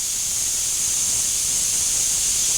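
Steam hissing from a pressure cooker whistle while mutton curry with broad beans cooks, a steady, loud, unbroken hiss with no talk.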